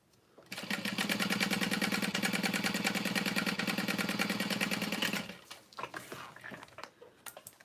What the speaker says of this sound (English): I'm top stitching the folded edge at the top.